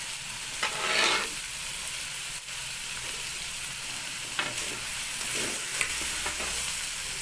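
Chicken hearts and livers stir-fried with salt in a pan, a dense steady sizzle with intermittent scraping strokes of a spatula, close and fairly loud.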